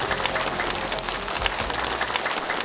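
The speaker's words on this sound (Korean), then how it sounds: "박수로 모시겠습니다" An audience at a citizens' roundtable forum in Daegu applauds steadily, a dense continuous wash of clapping throughout.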